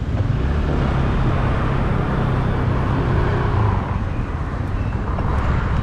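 Cars pass on a busy road in Pattaya, Thailand, a loud, continuous roar of traffic that swells and fades slightly, with no talking.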